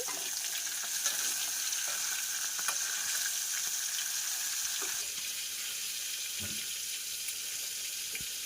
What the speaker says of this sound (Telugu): ఈ ముక్క ఒక పక్క కాలింది, ఇంకో పక్క నేను తిప్పుతున్నాను.